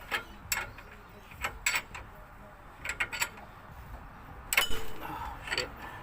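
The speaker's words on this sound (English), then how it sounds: "I already had the spinner here, so I'm just going with the spinner." A spinner wrench turning a bolt on a Ford Territory SX, giving quiet clusters of ratcheting metallic clicks in short bursts, close by in a garage.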